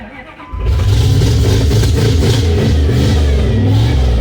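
A mini backhoe's small engine cranks and catches, then runs loudly and steadily at a rough, rumbling idle close by.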